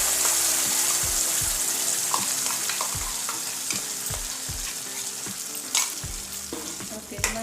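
Tempering of chillies and seasoning poured into peanut chutney, a loud continuous crackling sizzle up close with occasional clinks of a spoon.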